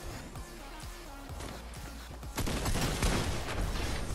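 Video game gunfire shooting through a player-built ramp, a loose run of sharp shots that grows into a louder, denser burst in the second half.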